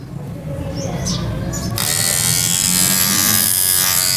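A repaired Chinese electric hair trimmer switches on and runs with a steady, loud buzzing hum that jumps in brightness partway through and holds until the end, with faint chirping sounds early on.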